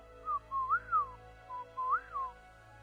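A human voice whistles in imitation of a whippoorwill, two clear rising-and-falling whistled phrases, close and alone.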